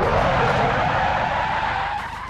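A car in the BeamNG driving game brakes hard and skids, giving a loud continuous tyre screech that fades slightly toward the end, with no talking.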